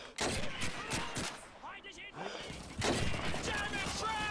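Gunfire in the video game Call of Duty 2 during a fight against German troops and mortar teams: dense bursts of rifle and machine-gun shots, loud and continuous, with shouted game dialogue mixed in.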